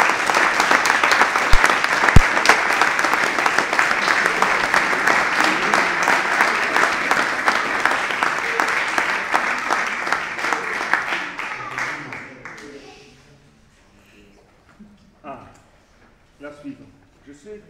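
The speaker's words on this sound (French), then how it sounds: "mais il mérite vos applaudissements" Audience applause at a French-speaking event, a full crowd clapping loudly and steadily for about twelve seconds before fading out into near silence with a few faint sounds.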